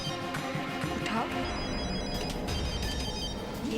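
A telephone rings repeatedly with a bright electronic trill over tense dramatic background music in a Hindi horror TV serial, loud and near, with voices in the scene.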